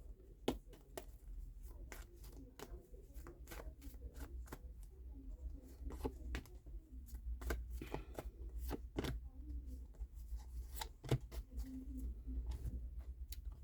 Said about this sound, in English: Libra, we're going to go with the tarot cards.